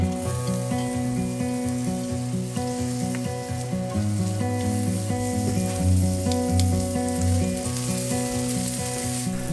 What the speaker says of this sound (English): I'm using avocado oil, and you're going to start sauteing onions